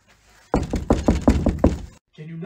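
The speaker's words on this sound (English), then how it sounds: "Can you not read the do not knock sign?" A rapid series of about eight loud, close knocks hits a door in a steady rhythm, then the knocking stops and a voice follows.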